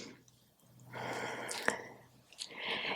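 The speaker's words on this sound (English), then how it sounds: "Inhale and exhale through your nose." Someone breathes in and out through the nose, slowly and close, with a soft airy rush that swells, catches briefly and trails off, faint and alone.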